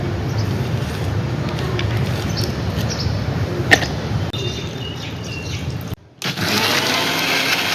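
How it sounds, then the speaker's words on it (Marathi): A kitchen mixer grinder whirs loudly and continuously, cutting out briefly near the end before starting up again. "त्याचे तुकडे करते आणि मिक्सरला लावते"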